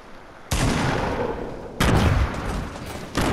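A pump shotgun fires in the Fortnite video game: three loud, booming blasts spaced about a second apart, each followed by a sustained rumbling roar. No voices.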